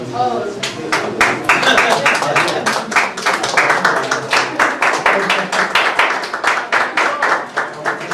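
Audience applause at a digital marketing training certificate ceremony, dense steady clapping from many hands lasting throughout, fairly loud and close, with the crowd noise continuous and no separate talk standing out.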